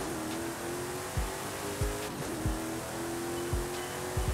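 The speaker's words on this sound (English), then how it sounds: "I'll just finish off the video with nothing but the engine sounds." Video-game engine audio of a tuned 1,000-horsepower car, a steady droning engine tone punctuated by several sharp thumps and gear shifts with rising and falling pitch sweeps, playing loud and alone.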